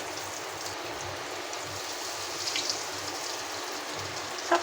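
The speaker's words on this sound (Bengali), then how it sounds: "এখানে গরম তেলের মধ্যে দিয়ে দিব" Palm-fruit snack batter fries in hot oil, giving a steady, dense crackle and hiss that continues evenly at close range.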